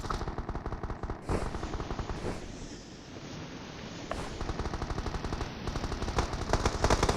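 Rapid automatic gunfire in an online shooting game, sustained bursts of crackling shots that swell and fade over several seconds, with no voice over it.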